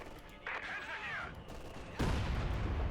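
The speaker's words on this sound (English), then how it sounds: "More heavy mortar fire there." Heavy mortar fire in the strategy game Company of Heroes 2, with a whistling shell tone followed by a loud, dense crash of explosions that keeps rumbling to the end.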